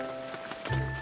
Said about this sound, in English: Four raindrops have fallen right down on the cats.